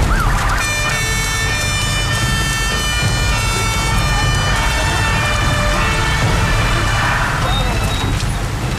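A loud fire engine siren wails nearby, its rising and falling tone steady throughout, with rattling and clattering noise beneath it.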